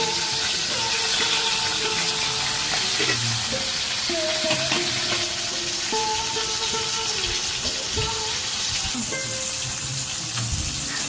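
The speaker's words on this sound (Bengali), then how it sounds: "অপর পাশটাও খুব সুন্দরভাবে ভেজে নিতে হবে।" Fish frying in hot oil on its second side after being flipped, a steady sizzle with occasional stirring clinks and spatula scrapes, close and moderately loud, no voices.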